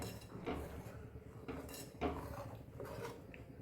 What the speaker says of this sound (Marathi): छान असं ढवळून घ्यायचं आहे.